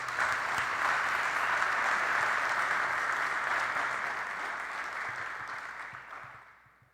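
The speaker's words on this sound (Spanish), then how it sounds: "Muéstralo con un aplauso que sea." Sustained applause from a church congregation, a dense steady wash of clapping that holds for several seconds and then fades away toward the end.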